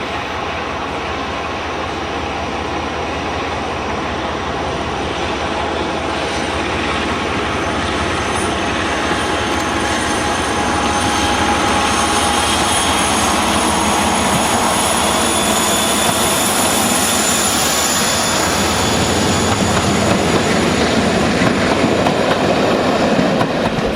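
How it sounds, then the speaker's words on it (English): British diesel locomotive 45112 hauling the Devonian over Hook Hills Viaduct: a sustained, rumbling engine roar with a whining top note, heard from a distance and growing slightly louder as it passes over the span. "The immaculate 45112 crossing Hook Hills Viaduct with the Devonian in April 2006"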